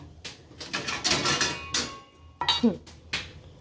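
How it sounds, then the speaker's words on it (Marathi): Tomato, capsicum and onion are chopped for pav bhaji, with a series of irregular knife clacks on a board and some clattering, close by, as a voice talks briefly in between. "टोमॅटो, शिमला मिरची, कांदा. तर हे घ्यायचे चिरून."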